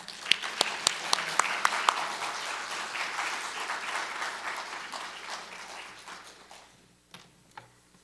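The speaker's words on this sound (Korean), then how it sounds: "우리 할렐루야로 박수하며 환영하겠습니다." A church congregation applauds to welcome a visiting pastor, a dense wash of many hands clapping with a few sharp individual claps standing out at the start, fading out near the end.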